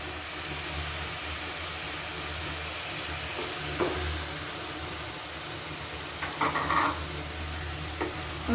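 Chicken pieces go into a hot pan of spiced onion masala cooked on medium heat, giving a steady hissing sizzle with faint stirring knocks near the end.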